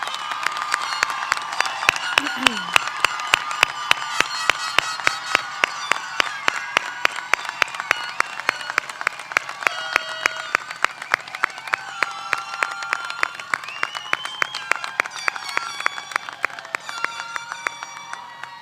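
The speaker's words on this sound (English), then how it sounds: "let's give one final round of applause to the class of 2026" A high school graduation audience for the class of 2026 claps in a steady, regular rhythm for the full stretch, with music and crowd noise sounding underneath.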